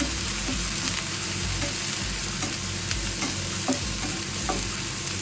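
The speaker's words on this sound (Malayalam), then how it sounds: "ചൂടായ എണ്ണയിലോട്ട് ഈ വൃത്തിയാക്കി വെച്ചേക്കുന്ന ചെമ്മീൻ ഇട്ട് കൊടുത്തേ" Cleaned dried prawns fry in hot oil with a strong, steady sizzle, and a spoon stirs and scrapes them in repeated sharp clicks against the pan. No one speaks.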